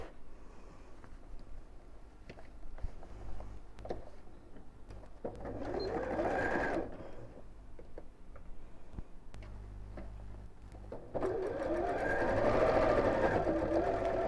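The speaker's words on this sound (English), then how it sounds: "and then we'll sew straight across." Sewing machine stitching straight across the seam of a simple box bag with the handle sandwiched between the layers, running in steady rhythmic bursts with brief pauses, close and fairly loud, no talking.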